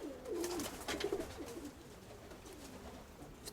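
A pigeon in a loft gives a couple of low, rolling coos close by, followed by quieter murmuring against a soft background.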